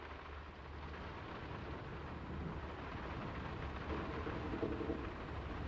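Heavy rain pours down in the Norwegian village setting of the game Draugen, making a steady, dense hiss with a low rumbling undertone that holds evenly throughout.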